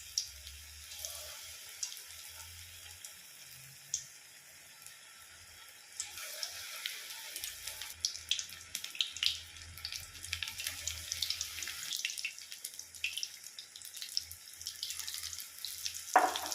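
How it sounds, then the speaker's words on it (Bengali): Cauliflower florets dipped in gram flour batter frying in hot oil, a steady crackling hiss that thickens as more pakoras go in, with a low hum beneath and no talk. "এবার ফুলকপিগুলোকে বেসনের মধ্যে চুবিয়ে তেলে ছেড়ে দিচ্ছি।"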